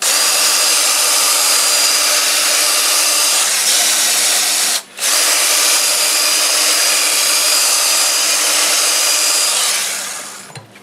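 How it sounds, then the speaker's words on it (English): Fine Scotch-Brite rubs against pear wood spinning on a lathe, a loud continuous abrasive hiss over the motor's steady drone with one brief pause midway, then tapering off at the end. "I like to use this fine Scotch-Brite on it. So we'll do a little bit of that."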